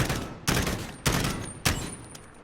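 Three bursts of M-16 gunfire in the Call of Duty Modern Warfare video game, each a sharp, loud cluster of rapid shots followed by a ringing decay, evenly spaced about half a second apart.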